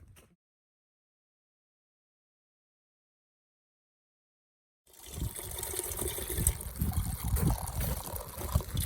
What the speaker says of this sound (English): It's taking forever to fill this pot.